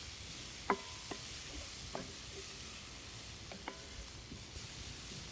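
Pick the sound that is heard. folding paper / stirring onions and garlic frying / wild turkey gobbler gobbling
stirring onions and garlic frying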